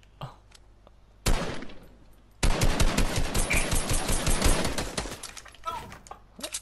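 Rapid automatic gunfire in the Fortnite Battle Royale video game, loud dense bursts starting with a short volley then a sustained stretch of fast shots before trailing off, with a few quieter shots near the end.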